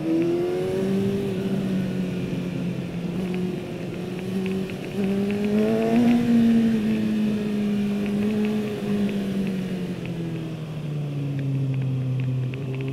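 A Kawasaki Ninja motorcycle engine drones steadily on a race track, pitch rising and falling with throttle through corners, heard continuously from the rider's position with wind noise.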